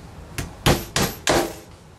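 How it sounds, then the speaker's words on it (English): Hammer striking nails into wooden baseboard trim held away from the wall, four sharp close whacks in a steady rhythm, loud and alone. "I'm starting it off of the wall because it's much easier to start the nails down here"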